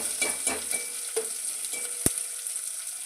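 Green chillies, curry leaves and onions frying and being stirred in hot oil, with a steady close sizzle, a few spoon scrapes and one sharp clack from the pan.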